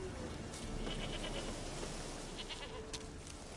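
Goat bleats in The Witcher 3: Wild Hunt, a few short calls rising over a steady ambient game background, moderately loud, with no talking.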